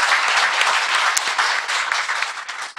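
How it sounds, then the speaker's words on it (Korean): A studio audience at a Korean political talk show applauds steadily, dense clapping holding at full strength for the whole stretch before cutting off abruptly at the end. "박수 부탁드리고요."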